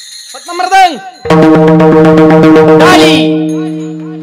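A mridang drum in a kirtan strikes in a quick, steady rhythm of loud, close strokes under a sustained tonal backing, following a brief vocal phrase at the start.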